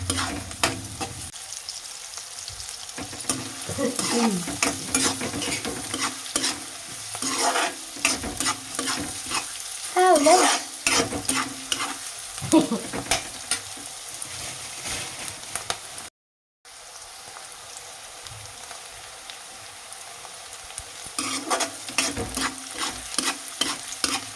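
Sliced onions frying for a spicy chicken liver fry, stirred continuously with repeated scraping and clattering of a spatula over an ongoing sizzle, one short silent gap midway, no talking.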